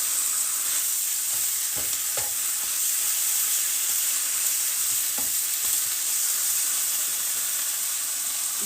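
Spinach fries in a hot pan, giving a steady, loud sizzle and hiss. A few soft scrapes and clicks of stirring come through, and no one talks.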